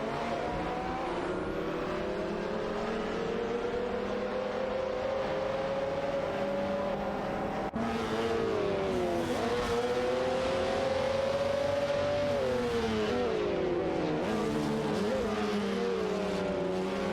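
Race cars lapping a circuit, engines droning loud and steady with rising and falling pitch as they hold speed and shift through corners, continuous for the whole stretch with no voices.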